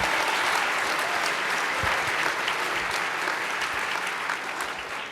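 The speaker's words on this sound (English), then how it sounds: "Let's give him a round of applause." An audience applauds a sixth-grade contestant at the MATHCOUNTS national math competition, a broad wash of clapping from a large hall, moderately distant and steady before tapering slightly at the end.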